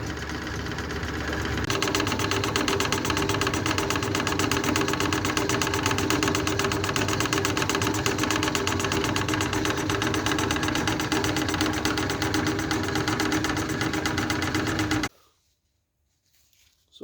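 Line boring machine taking a light cut through a Gen3 Hemi engine block, a steady, loud mechanical drone with a rhythmic chatter that runs nearly continuously, then stops abruptly into near silence at the end.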